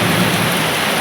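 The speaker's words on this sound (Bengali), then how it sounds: "মেঘের আওয়াজ শুনতে পাচ্ছ?" Heavy monsoon rain pours down steadily with a low rumble of thunder underneath, a loud, dense, unbroken roar with no voices.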